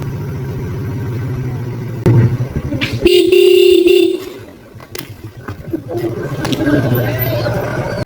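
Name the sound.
vehicle horn honking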